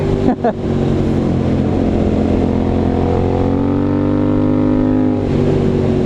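A Triumph Scrambler 900 motorcycle with an Arrow exhaust runs with a loud, close, continuous harmonic engine drone whose pitch swells upward midway as it pulls hard, then settles back.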